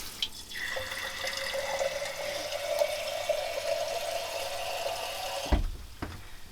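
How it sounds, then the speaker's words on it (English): Water runs steadily from a tap for several seconds, a continuous hissing stream into a dirty, hot frying pan coated with stuck-on egg, then stops with a brief clunk near the end. "I am going to put it back into my pan, and I'm going to add water."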